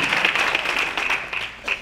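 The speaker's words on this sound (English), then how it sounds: "give a round of applause for the efforts, for the investment and the involvement in this community" A State of the City audience claps in a brief burst of applause, with distinct individual claps standing out close by and the clapping tapering slightly.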